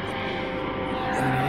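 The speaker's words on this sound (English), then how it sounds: "there's just a helicopter going overboard." A helicopter passes overhead at a home building site in Birmingham, a steady loud rotor-and-engine drone that fills the whole clip and swells slightly toward the end.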